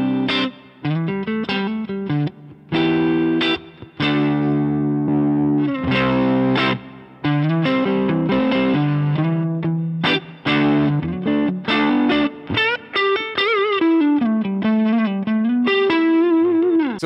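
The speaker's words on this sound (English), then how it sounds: "I've got the Bluesmaker drive in here. Let's just have a listen to what it does to the clean sound" Electric guitar through a Bluesmaker overdrive modelled on a Fender Tone Master Pro, adding drive to a clean tone: close, steady riffs and chords with sustained, slightly gritty notes and short pauses between phrases, no talking.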